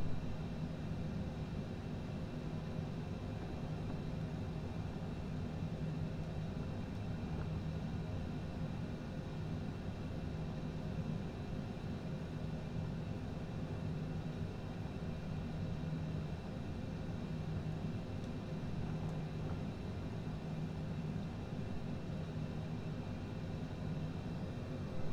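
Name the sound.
CJ4 jet taxiing in Microsoft Flight Simulator 2020, video game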